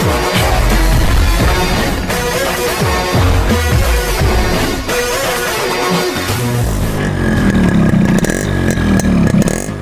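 A 1989 Yamaha RX100 motorcycle engine runs loud and close, a rapid, rattling two-stroke burble with surges of revving and clattering mechanical noise throughout, steady and continuous, with no voices.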